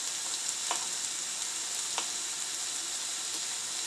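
Vegetables sautéing steadily in a hot non-stick pan, a constant bright hiss with occasional soft scrapes of a utensil stirring.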